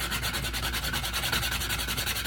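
Sandpaper rubbed over a wooden coaster to clean it up, steady close scratchy strokes in a quick regular rhythm with no voices.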